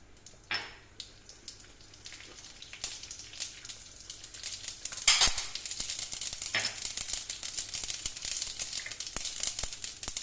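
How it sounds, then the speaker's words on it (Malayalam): Mustard seeds hit hot ghee in a pan, starting with scattered crackles that build into a dense, close sizzle with sharp pops and spatters, loudest toward the end, with no voices. "ഇതിലേക്ക് കടുക് ഇട്ട് കൊടുക്കാം"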